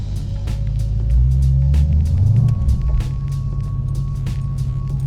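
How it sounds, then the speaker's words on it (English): A 1976 Ford ZH Fairlane with a 351 V8 revving while pulling up to a car show, a deep loud engine rumble that swells into a brief rev and then settles back to a throaty idle. "I can't help myself but give it a little rev every now and then. It just sounds so good."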